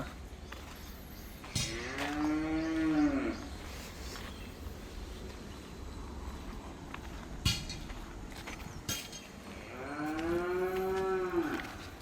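Two long, loud cow moos in a cowshed, one near the start and one near the end, with quiet barn ambience and a few soft knocks in between.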